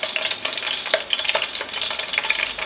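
Green chilies hit hot oil in a pan while cooking aloo tomato rice, a bright steady sizzle and crackle up close with scattered sharper pops and faint stirring scrapes throughout.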